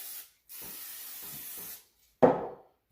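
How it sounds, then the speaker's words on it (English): A short aerosol spray of canola oil onto chicken hisses for about a second, then stops; after a pause, a brief louder burst of spray follows. "I'm gonna use some canola oil, and I'm just gonna do a quick spray on it like that"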